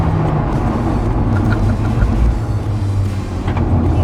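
Sports car pulling away hard, a loud close continuous engine roar with a low rumbling tone throughout and faint higher whines, no voices.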